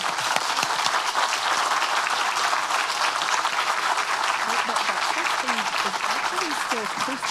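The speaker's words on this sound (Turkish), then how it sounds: "Kapsül içinden alkışlama görüntüleri geliyor." Steady, dense clapping from astronauts inside a space capsule during the first Turkish astronaut's spaceflight, continuous and fairly loud, with faint voices rising beneath it toward the end.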